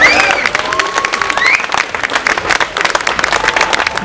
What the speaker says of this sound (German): gebt mal Applaus. Applaus.